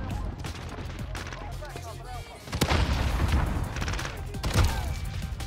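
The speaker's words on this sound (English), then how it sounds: "Two people shooting at him." Video game gunfire from two shooters, rapid bursts of shots cracking out in quick succession, growing louder and denser partway through, with sharp loud reports near the end.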